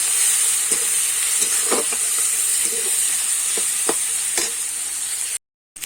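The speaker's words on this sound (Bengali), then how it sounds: "চিংড়ি মাছটা আমি ভালো করে ভেজে নেবো" Prawns rubbed with salt and turmeric fry in hot oil, giving a constant loud sizzle and hiss punctuated by occasional stirring clicks. The sound cuts off abruptly into brief silence near the end.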